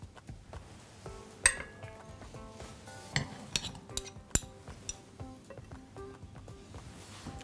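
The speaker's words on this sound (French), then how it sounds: "Je vais mettre mes filets dans mon assiette." Pan-fried fish fillets lifted onto a plate with utensils, giving scattered light metallic clinks and taps of cutlery against dishware at close range, with no speech.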